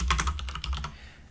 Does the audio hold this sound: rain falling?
no